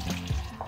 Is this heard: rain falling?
no